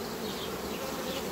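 Honeybees drone steadily and loudly at an open hive during queen extraction, a dense continuous buzz close by with no voices.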